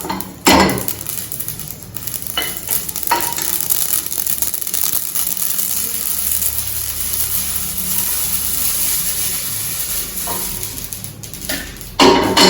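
Sesame seeds roast in a dry pan while being stirred, a continuous soft rustling and crackle with a few sharp scrapes of the spoon near the start and end.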